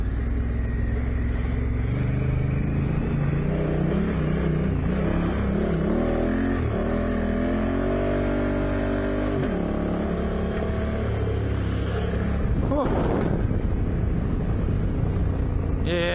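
A fully loaded Honda Africa Twin motorcycle rides along an Australian bush road, its engine a steady close rumble that rises and falls with the throttle, with a brief louder burst near the end; no one speaks.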